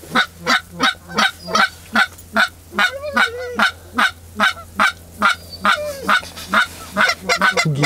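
Loud, rapid honking from a flock of geese during waterfowl hunting, steady repeated calls close by, continuing throughout without pause.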